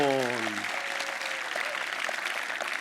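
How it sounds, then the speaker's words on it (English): A crowd at the EOS Global Hackathon closing ceremony in London applauds the first finalist team. Steady, dense clapping runs throughout, and a voice trails off briefly at the very start. "Please, a warm round of applause for our very first finalist of the first group"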